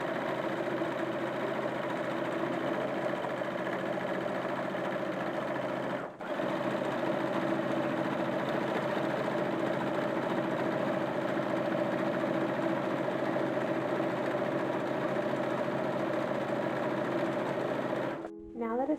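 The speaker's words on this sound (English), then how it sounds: "we're going to stitch this all the way around at a 1/2 inch seam allowance" A sewing machine runs continuously as it stitches a facing around a mid-19th-century dress hem, a steady close mechanical whir with one brief pause midway and a stop near the end.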